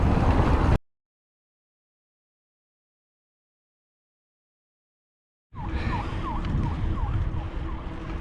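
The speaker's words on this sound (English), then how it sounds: "Whoop whoop, that's the sound of the police." A passing police siren on a Dudley canal towpath during a mountain bike ride. After a silent gap, a repeating whooping wail rises over a steady roar of traffic and wind.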